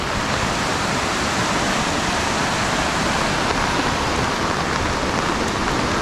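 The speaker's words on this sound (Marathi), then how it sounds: "आता तुम्ही हा नदी बघू म्हणजे पाणी बघू शकता" Continuous rushing of a flowing river, a dense even wash of sound with no pauses and no voices.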